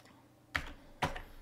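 Two sharp, quiet computer keyboard clicks from typing a git commit message, spaced about half a second apart in a near-silent room.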